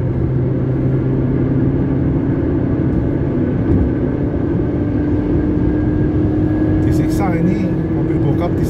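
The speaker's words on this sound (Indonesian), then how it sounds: "Lumayan sih ini RPM-nya, dia memang limitnya sampai 6000 pun masih dihajar ya." A 2008 Toyota Corolla Altis Type V engine is pushed to high revs, a loud, steady drone with a rising whine near the end, heard from inside the car with talk over it.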